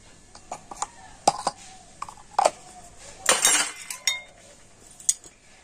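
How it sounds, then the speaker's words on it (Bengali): Rice batter with baking powder being mixed in a bowl, with sharp clinks of a spoon against the dish at irregular intervals, a brief scraping flurry midway, and faint background noise. "আর বেকিং পাউডার দিয়ে আবারও কিন্তু ব্যাটারটা খুব ভালো করে আমি এইভাবে মিশিয়ে নেব।"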